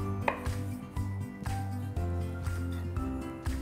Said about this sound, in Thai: เราหั่นเปิดออกมาก่อนนะครั บ ล้างทำความสะอาดให้ดีนะฮะซอยก็ได้นะครับ